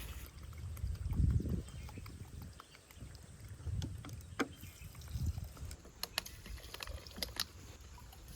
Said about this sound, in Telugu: ఇప్పుడు వాటర్ని అయితే యాడ్ చేసుకుందాం.